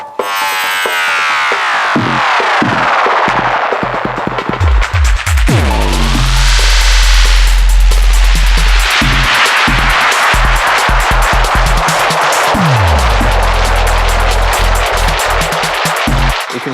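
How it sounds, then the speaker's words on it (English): A Pioneer DJM 900nexus mixer's spiral delay effect smearing music into loud, dense swirling repeats, with sweeping pitch-rising and falling echo tails that pile up into a continuous washing cacophony, no voices. "So the spiral is like a tape delay that's gone bananas,"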